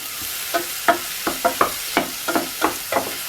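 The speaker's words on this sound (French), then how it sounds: "quand les pommes rencontrent le beurre et les échalotes et les champignons, et bien tout de suite c'est l'osmose" Apples, shallots and mushrooms sautéing in butter in a pan, heard as a run of sharp stirring scrapes and sizzling bursts, about ten in quick succession, close and alone with no talking.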